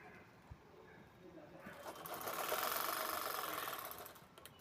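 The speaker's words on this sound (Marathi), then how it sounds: "आता इथे आपण शिलाई घेतोय" A sewing machine stitching a cloth shopping bag runs in a smooth whirring burst that swells over about two seconds and then fades, close and fairly loud after a quiet start with faint background murmur.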